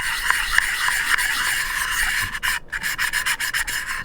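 Sandpaper rubbed in circular motions over the surface of a turkey call, a steady close scratchy rasp that breaks into shorter strokes near the end, with no talking.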